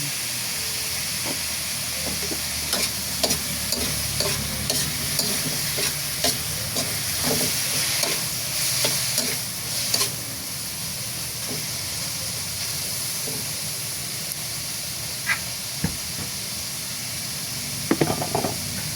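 Pork sizzles steadily in a hot pan, a constant frying hiss with occasional clicks and scrapes of stirring.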